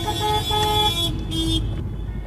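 Cars idle and move around a Burger King car park at night, with a steady engine rumble and a few sustained horn-like tones sounding close by.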